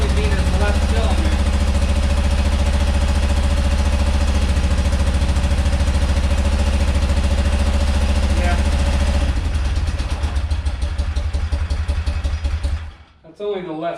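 A rare motorcycle, one of only 286 built, runs on its left cylinder alone with a close, lumpy, uneven idle throb that roughens partway through and stutters to a stop at the end, with some voices around it.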